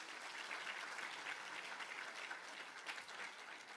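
A round of applause for British school students at a registration day, a continuous, evenly textured clapping from a crowd, somewhat distant and soft, holding steady for nearly four seconds.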